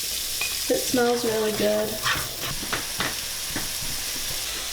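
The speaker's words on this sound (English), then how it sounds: "I'm going to start with adding the onion." Onion hitting a hot buttered pan for pumpkin soup, giving a steady frying sizzle with scraping and stirring noises, while people talk briefly over it near the start.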